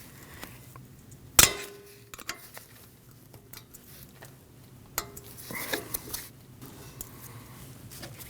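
A screwdriver prying a C-clip from a Subaru Forester rear wheel knuckle makes one sharp metallic clank, then scattered light ticks and scrapes of metal on metal, close by and sparse.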